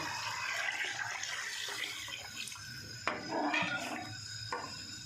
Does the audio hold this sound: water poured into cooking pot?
yes